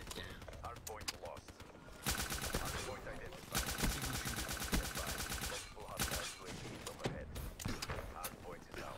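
Rapid automatic gunfire from the video game Call of Duty Black Ops 3 rattles in dense bursts, with a long sustained volley in the middle and scattered shots around it.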